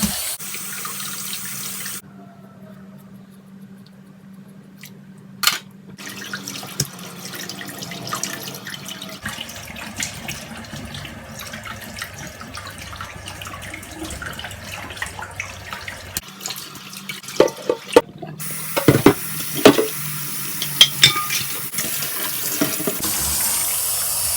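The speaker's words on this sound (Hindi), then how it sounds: "हम इसे एक दफा और धो लेंगे अच्छा सा" Running tap water splashes steadily over sacrificial Qurbani meat as it is rinsed in a sink, with intermittent handling noises, drips and splashes becoming busier toward the end.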